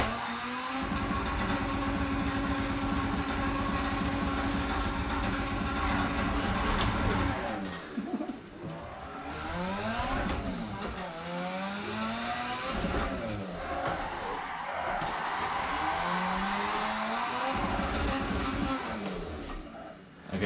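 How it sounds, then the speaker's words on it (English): A car in the racing game Assetto Corsa does a burnout, its engine droning steadily at first, then revving up and down in repeated sweeping surges as the tires spin, loud and close. "I'm gonna do a burnout."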